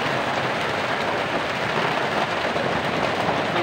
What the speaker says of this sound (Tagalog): Ang ulan, guys. May bagyo.